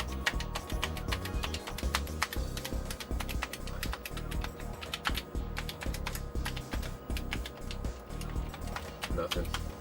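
Keys are pressed on an old SOL-20 computer keyboard under restoration, giving a dense run of sharp clicky taps at an uneven rhythm close to the microphone, with faint speech mixed in.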